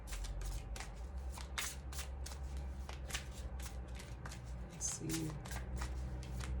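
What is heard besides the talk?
shuffling a deck of tarot cards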